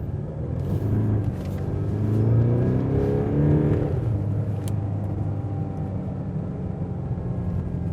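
A 2023 Mercedes-AMG GLC 300 diesel SUV in Sport Plus mode accelerates through a corner, its engine rising in a smooth, building rumble heard from inside the cabin, then settling to a steady drone.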